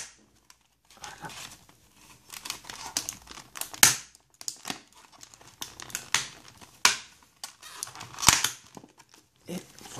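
Plastic wrapping on a Pokémon Dragon Vault Latias card tripack is crinkled and torn open, close and crisp, with irregular rustling bursts and sharp tearing snaps.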